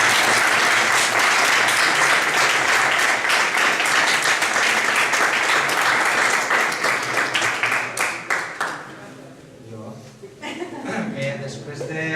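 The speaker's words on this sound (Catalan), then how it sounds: "jo sobretot vull un aplaudiment per a Segarra per la constància." Audience applause at a building opening ceremony, dense and sustained for several seconds before tapering off, with some chuckles and voices as it ends.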